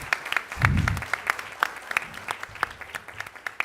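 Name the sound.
round of applause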